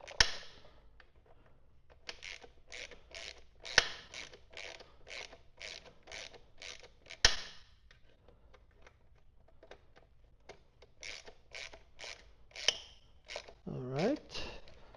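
Skid plate bolts on a 2025 BMW R1300GS Adventure are snugged with a ratchet, producing rapid runs of crisp clicking in quick rhythmic bursts, close and fairly quiet, with a few sharper knocks and brief talk.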